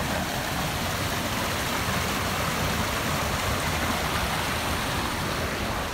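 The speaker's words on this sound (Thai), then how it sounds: "เป็นน้ำตกที่ อยู่สูงไหลมาตรงๆเลยชันๆ" A high, steep waterfall pouring straight down a cliff face, its flow swollen and fast after recent rain, makes a loud, steady broadband roar that fills the scene without break or voices.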